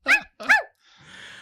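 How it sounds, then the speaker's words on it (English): A dog gives two sharp, close barks in quick succession, followed by a brief soft hiss of background noise. "That's just dogs, baby."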